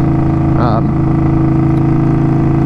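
An Indian Scout Bobber motorcycle engine, fitted with upgraded spark plugs, runs with a loud, steady droning rumble throughout, with a brief wavering rise in pitch near the start.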